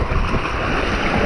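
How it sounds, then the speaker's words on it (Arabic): Steady motor drone of a wooden long-tail boat out at sea in Thailand, the engine mounted at the stern, blended with wind and splashing water in a loud unbroken wash. "هذا النوع من القوارب يسموه لونج تيل بوتس"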